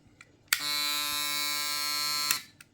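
A KEMEI KM 1767 electric shaver, freshly repaired by soldering, switches on with a click, buzzes steadily with a bright, tonal hum for under two seconds, then clicks off, with faint handling taps around it.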